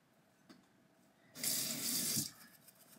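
Water runs from a bathroom tap in a steady, fairly loud rush for about a second while a razor is rinsed between shaving passes, then stops, with only quiet room tone around it.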